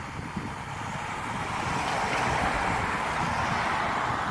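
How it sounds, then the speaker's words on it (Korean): A village bus passing along a country road through vineyards and olive groves in Chianti, Italy, a broad rumbling swell that grows louder and closer over a few seconds amid wind noise. "네, 이제 마을버스도 지나다닙니다."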